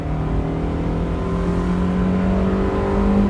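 An older Mazda MX-5 Miata builds speed, its engine drone rising steadily in pitch as it accelerates, heard from close by with steady road noise underneath.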